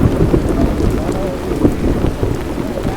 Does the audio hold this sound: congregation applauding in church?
no